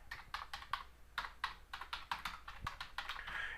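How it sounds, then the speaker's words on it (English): Fingers type on a computer keyboard in quick, irregular clusters of crisp, close key clicks, quiet, with no talking. "I'll go ahead and type in that right now."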